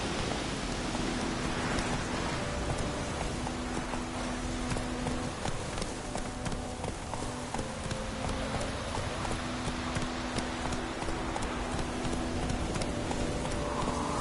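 Hooves of Roach, a horse in The Witcher 3, clip-clop steadily at a gallop through steady rain, with tonal music-like hum underneath, no talking.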